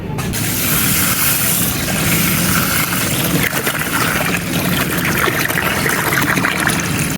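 Rice being washed in water by hand in a village home kitchen, a steady close trickling, sloshing and splashing of water that runs continuously without talk.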